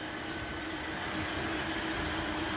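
Model trains running on a club layout, a steady close rumbling rattle of wheels on track that holds even throughout, with no voices.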